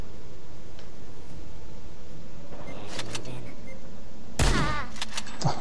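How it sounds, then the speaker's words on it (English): Shotgun blasts in the Worms W.M.D artillery game, a sharp loud burst near the end rising over steady game music and background noise, with a lighter crack just before it. "Shotgun."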